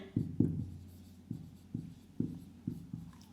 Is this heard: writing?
yes